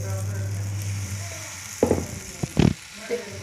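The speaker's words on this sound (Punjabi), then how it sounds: "ਆਪਾਂ ਹੁਣ ਇਤੇ ਆਪਣਾ ਡੋਸਾ ਬੈਟਰ ਪਾਵਾਂਗੇ ਦੋ ਕੜਛੀਆਂ ਪਾਵਾਂਗੇ" Dosa batter, two ladles of it, hits a hot pan, giving short bursts of sizzling over a low steady hum, close and moderately loud.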